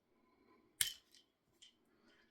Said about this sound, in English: then I'll just trim the excess wire off using the wire cutting tool